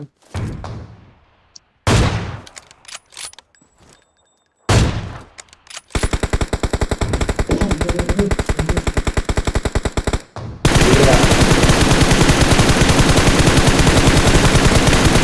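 Gunfire in PUBG Mobile: a few isolated loud shots with echoing tails, then a long rapid automatic burst, and finally a dense continuous barrage of shooting.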